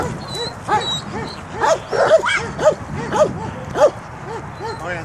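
A police K9 dog in search training gives a rapid series of short yips and barks mixed with high whimpers, close and excited, with rustling underneath.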